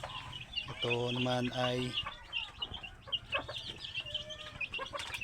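Hens and two-day-old chicks on a small backyard flock, a burst of clucking and peeping close by near the start, with softer chirps continuing under a person talking.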